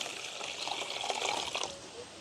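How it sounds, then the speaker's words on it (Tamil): Lentils being rinsed by hand in a bowl of water in a village kitchen, a steady close trickling and sloshing of water running for about two seconds with no talking. "அடுத்தது வந்து பருப்பை வந்து கழுவி எடுப்பேன்"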